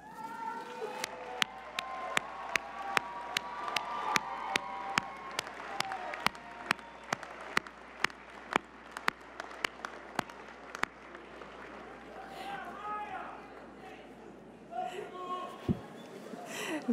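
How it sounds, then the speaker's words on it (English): Applause during a college of design commencement ceremony, loud individual claps ringing out close and rhythmically over a softer crowd wash, fading toward the end as a voice speaks in a large hall. "would you please turn around and give your family and friends a big round of applause?"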